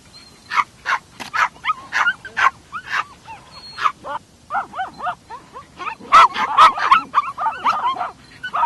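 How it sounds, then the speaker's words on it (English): A dog barks repeatedly from underground in a small hole, muffled sharp yips and whimpering barks in irregular bursts that grow louder and denser toward the end. "We have a dog underground without a locator collar on."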